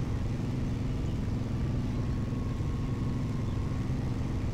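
Truck engine in the SpinTires off-road driving game, a steady low rumbling drone that holds an even loudness throughout, alone without talk.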